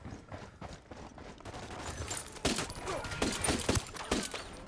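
Pistol fire in the video game Ghost Recon Wildlands comes as a string of sharp, close shots, sparse at first and then in quicker bursts, over a busy game background.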